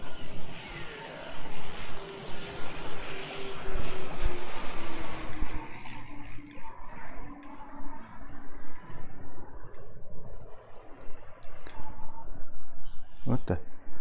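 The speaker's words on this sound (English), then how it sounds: "we've got a plane dropping loot" An airplane passing over and dropping loot in the shooter game Blastworld, a broad engine roar swelling loud then fading over several seconds, with game effects and faint talk.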